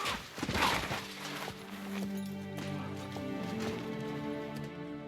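Horse hooves in the Kingdom Come Deliverance 2 video game, a brief burst of clip-clop early on, then a sustained tonal backdrop of music or ambience with no clear speech.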